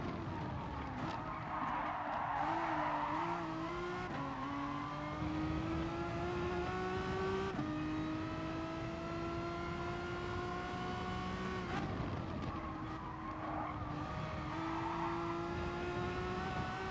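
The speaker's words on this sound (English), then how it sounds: "the Megane feels good" Renault Megane race car in GT Sport, engine tones climbing through gear changes with repeated upshifts and steady tire skidding underneath, loud and continuous with no voice.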